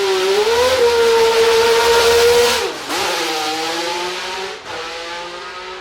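A Ferrari flat-12 Formula 1 engine revs with a loud, high-pitched wail close by. It holds a sustained note, dips briefly twice and climbs back each time.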